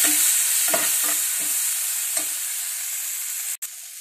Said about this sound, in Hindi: साथ में डाल देंगे टमाटर, अच्छे से भून लेंगे।